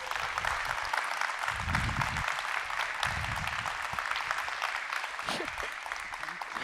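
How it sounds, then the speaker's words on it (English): Audience applause welcoming a speaker to the stage at an EF Tours 2024 Ignite speech, sustained clapping through the whole stretch, with some voices mixed in among the crowd. "please join me in giving a huge round of applause to Tiff Duong."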